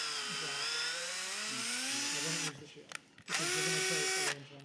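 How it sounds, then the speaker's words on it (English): A power drill with a 3/16 bit drills through the bottom of an X-Wing VCX-100 Ghost model ship, whining loudly and close, pausing briefly, then whining again before stopping near the end. "We'll go ahead and drill it through the bottom."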